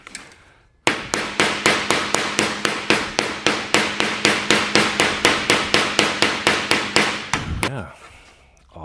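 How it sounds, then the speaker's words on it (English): Rapid, steady hammer blows work a car body panel against a shrink ring donut on a 1937 Lincoln Zephyr, around thirty evenly spaced metallic strikes over seven seconds, close and loud, then stopping. "Then I'm going to use the shrink ring donut"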